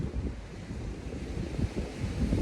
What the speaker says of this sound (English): to feel the breeze, to listen to the waves of the ocean